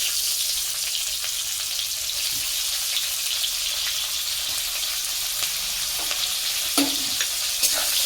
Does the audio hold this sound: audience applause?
no